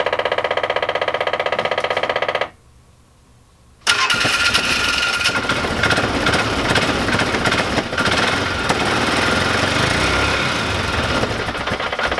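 A Polaris Ranger UTV engine cranks loudly up close, drops out for a short pause, then fires up and settles into a steady, loud, continuous run.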